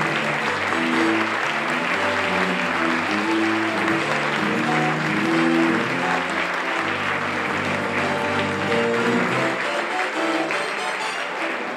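Loud, sustained applause from a large crowd, steady clapping throughout with no pauses, fading slightly near the end.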